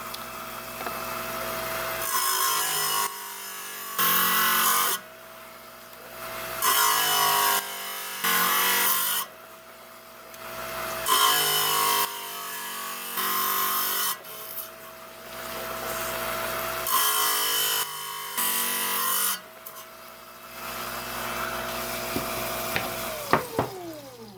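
Wet trim saw slicing a slab of epidote stone for a cabochon, a harsh grinding buzz in repeated bursts of a second or two separated by lower idling hum, close and fairly loud.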